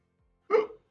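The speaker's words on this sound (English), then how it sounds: "Just a little hiccup." One short, sharp hiccup, close and fairly loud, stands out alone against near silence.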